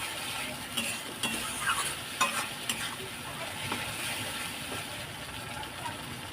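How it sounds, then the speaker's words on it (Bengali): Masala for a gondhoraj lime egg curry is stirred and fried over a high flame, a continuous close sizzle with repeated scraping strokes of the spoon against the pan. "ভালো করে নাড়াচাড়া করে নেব হাই ফ্লেমে নাড়াচাড়া করে নিতে হবে"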